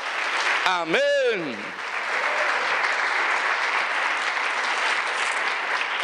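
A church congregation breaks into sustained, steady applause that fills the space after a pastor's brief spoken word at the start, the clapping continuing evenly to the end.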